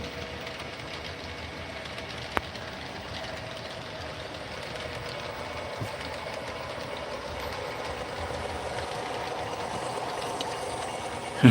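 An HO scale model train with black GATX tank cars rolls along a Union Pacific-themed layout, giving a steady low rumble and soft wheel clatter throughout with a couple of faint clicks and no talking.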